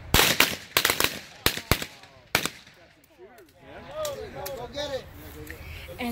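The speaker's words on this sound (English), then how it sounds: "They're about to shoot his hat." Shotgun blasts at a skeet range aimed at a hat, several loud sharp reports in quick succession at the start, followed by voices talking and cheering.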